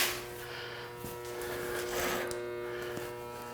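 Arc welding on a 16-foot car hauler's metal frame, a steady close electric buzz with a constant hum and faint crackle running unbroken for several seconds.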